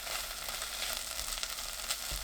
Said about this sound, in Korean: 고춧가루 수북이 1큰술, 미림 2큰술 넣고 1분 볶습니다.